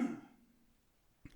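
One man clears his throat loudly at the start and the sound trails off into quiet room tone, followed by a short faint second throat sound at the end.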